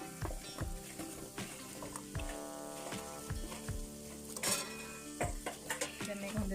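Chicken devilled sauce with tomato sauce is stirred in a frying pan, a continuous soft sizzle with repeated spoon scrapes and knocks against the pan, fairly quiet, with no talking.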